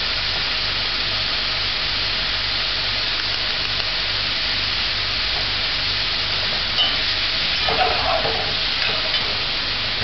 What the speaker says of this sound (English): Stir fry for 1 minute.